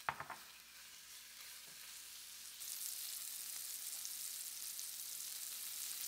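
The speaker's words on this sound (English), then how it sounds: "When the pan is hot, we're going to throw in our salmon." Salmon pieces sear in a hot pan slicked with oil, a few sharp clatters at first, then a steady, loud, broad sizzle that swells and holds without a break.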